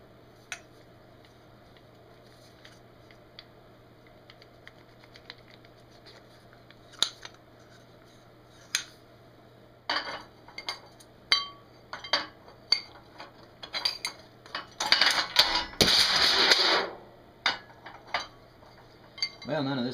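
A bottle jack fitted with a pressure gauge is put back together, with scattered sharp metallic clicks and clinks of parts, then a brief busy burst of rattling metal handling before more isolated taps.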